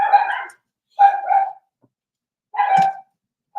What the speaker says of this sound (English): our neighbor's dog is barking